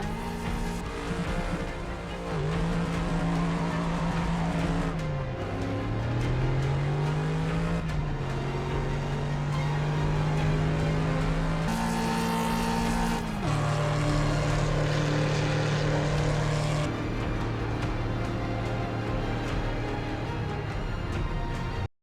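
A Ford Mustang V8 sports car accelerating hard, its engine note climbing through several gears with brief dips at each shift, loud and close throughout with a rising roar.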